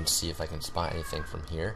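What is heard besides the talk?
cat meowing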